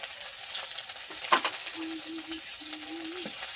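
Crushed ginger and green chili fry in hot oil for a samosa filling, a steady soft sizzle with a few stirring scrapes and clinks, close by and without any talk.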